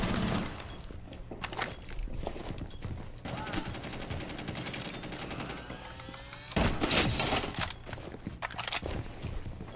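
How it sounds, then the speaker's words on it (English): Rapid bursts of gunfire in a competitive shooter video game, sharp clustered shots and automatic volleys through a wall, loud and continuous with a heavier burst near the end, a voice talking over parts of it. "I keep getting shot at through this wall."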